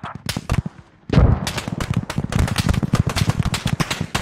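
Rapid gunfire and mortar fire in the military game Squad: loud dense bursts of shots, sharp cracks and booming impacts overlapping almost continuously, near and far.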